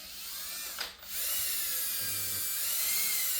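A cordless drill spooling fishing line onto a reel, a steady high whine running throughout with a brief dip and restart near the start, close and fairly loud.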